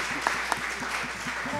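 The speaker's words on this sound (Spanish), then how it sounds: "y ese aplauso más fuerte para José Fabio Naranjo en la armonía" Audience applause at an Andean Colombian music festival honors a chromatic harmonica player, a steady close burst of clapping from a concert crowd.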